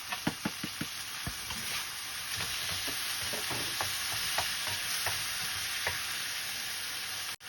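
Onion, garlic and tomato sizzle steadily in a hot pan for a Filipino fish sarciado, with sharp spoon-against-pan stirring clicks scattered over the continuous frying hiss.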